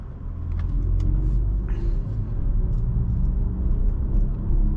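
A 2022 BMW i4 M50 electric car drives along, giving a steady low road and tyre rumble inside the cabin, with faint brief clicks over it and no voices.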